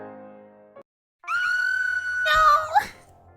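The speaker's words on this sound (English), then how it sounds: "Sounded like a scream." Scream in The House in Fata Morgana visual novel, a sustained high shrill cry that rises and breaks off, following a brief quieter tone and a short pause.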